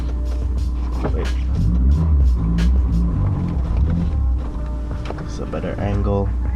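Honda S2000 rolling off a driveway, its low engine rumble and tyre noise steady and close throughout, with people talking over it.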